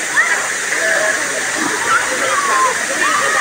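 Daranak Falls in Tanay, Rizal, a popular tourist waterfall, roars as a loud, continuous rushing splash close by, with voices of people talking over the steady torrent.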